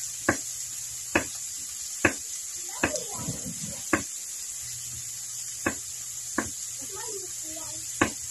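Baguio green beans being chopped on a cutting board, a series of sharp knife strikes spaced about a second apart, close and distinct, with a brief clatter of handling midway and soft background hum.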